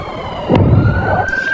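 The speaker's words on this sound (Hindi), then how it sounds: "उत्तरी इजराइल में सायरन बज रहे हैं।" Air raid sirens sound in northern Israel as a sustained rising wail under loud outdoor rumble and noise.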